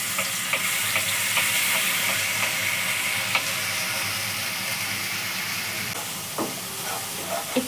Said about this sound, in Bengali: গরম মশলাটা তেলে দিয়ে দিলে একটু গরম হওয়াতে এবার আমরা এতে পেঁয়াজ বাটাটা দিয়ে দেবো।